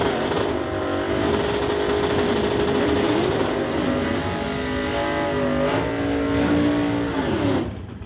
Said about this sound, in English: driving the 64 Comet, 347 cubic inches of Ford power under the hood